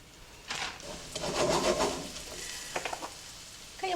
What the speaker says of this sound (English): See that sizzle going on there?